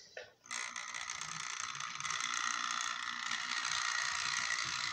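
A Hornby Battle of Britain class model locomotive running at speed, giving a loud, steady mechanical whirring and gear rattle that starts abruptly and continues without pause, with no talking.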